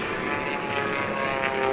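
A Formula One class racing propeller plane at the Reno Air Races drones steadily overhead, a continuous buzzing engine and propeller tone with no break.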